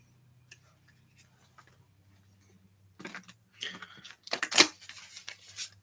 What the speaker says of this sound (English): as I shuffle the spots off of these cards.